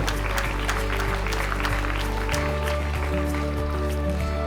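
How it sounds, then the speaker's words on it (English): Crowd claps for the guest of honor at a school sports meet closing ceremony, scattered hand claps over loud sustained music. "let us all clap our hands for our guest of honor"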